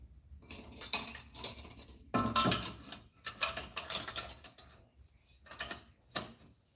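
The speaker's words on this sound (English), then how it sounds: "I definitely think this is the clamp that goes here." Metal clamp being handled and fitted during work on an engine project: a series of sharp clinks, clanks and scraping metallic knocks in irregular bursts, close and fairly quiet, with short pauses between.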